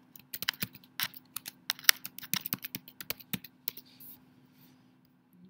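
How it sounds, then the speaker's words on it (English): A password being typed on a computer keyboard, with a quick, uneven run of crisp, close key clicks that thin out and stop near the end, leaving near silence. "And just type in a password."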